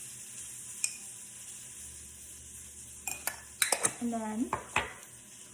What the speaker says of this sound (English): I'm just going to stir all of that.